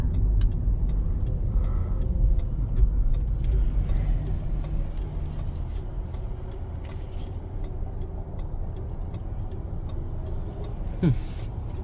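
A 2006 Mercury Grand Marquis cruises on the highway, giving a steady low road and engine rumble with tyre noise throughout and a brief higher whoosh near the end, with no talking.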